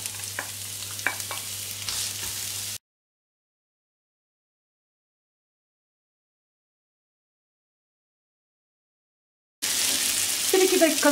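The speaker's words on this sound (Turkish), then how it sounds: "Daha sonra havuç, soğan ve sarımsakları ekliyorum" Carrot, onion and garlic sauté in olive oil with a steady sizzle and scraping stirs, broken by a long stretch of total silence before the frying resumes.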